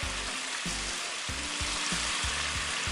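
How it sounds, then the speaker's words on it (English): Catfish nuggets sizzle steadily in hot frying oil, a dense continuous crackle close to the listener, with low thumping pulses repeating about every half second underneath. "Fried fish, fried baby."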